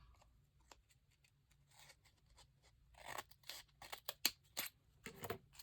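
Scissors snip through paper scraps for a vintage junk-journal book plaque, a series of crisp, close cuts that start sparse and faint, then come quicker and louder toward the end with no talking.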